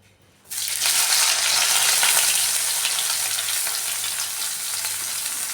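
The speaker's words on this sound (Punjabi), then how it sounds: "ਤੇਲ ਸਾਡਾ ਗਰਮ ਹੋ ਗਿਆ ਹੁਣ ਆਪਾਂ ਵਿੱਚ ਜਿਹੜੇ ਪਿਆਜ਼ ਆ ਉਹ ਪਾਵਾਂਗੇ" Chopped onions drop into hot oil in a pan for aloo rajma curry, bursting into a loud, steady sizzle after a brief quiet start and frying on without a break.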